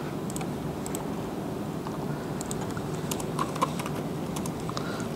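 Keys tapped out in scattered clicks while entering code on a computer keyboard, light and close, over a steady background hiss.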